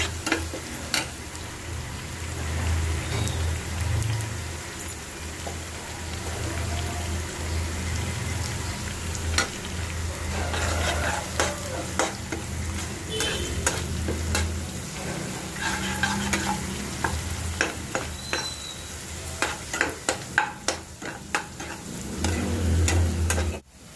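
Onions sizzle and crackle in a hot pan, with intermittent scraping and stirring clatter close by; no talking.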